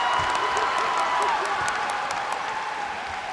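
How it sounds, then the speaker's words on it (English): A near-capacity basketball crowd cheers and claps for the home team, a steady wash of applause and noise with scattered shouts, loud and unbroken throughout. "Near capacity crowd here, cheering every move the Slingers make"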